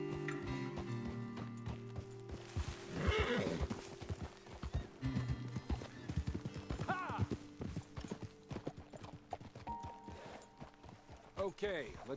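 Horses in Red Dead Redemption 2, rhythmic hoof clip-clops with repeated neighs and whinnies, fairly close, with a voice speaking at points between the hoofbeats.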